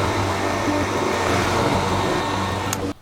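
A heat gun shrinks heat shrink tubing over wiring on a Tesla Model 3 hitch harness. Its steady, loud blowing whir and motor hum run without a break for about three seconds, then stop with a click.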